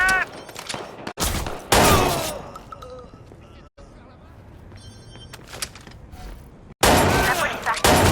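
Gunfire in the video game Watch Dogs 2, loud sharp bursts of shots at the start, around two seconds and again near the end, with quieter stretches and game voices between.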